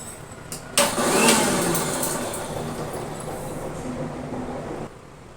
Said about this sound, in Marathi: मिक्सरला वाटून घेऊ